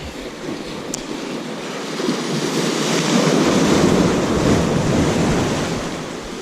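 Ocean surf rushing against rocks at Martin's Beach as the tide comes in, a broad roaring wash that swells louder midway and stays strong, mixed with gusty wind buffeting the microphone.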